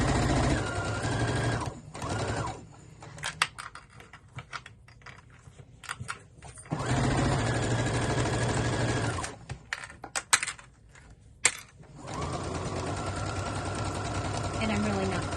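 An embroidery-capable sewing machine stitches fabric in long steady runs of rapid mechanical whirring, stopping and restarting several times, with a person talking during the pauses.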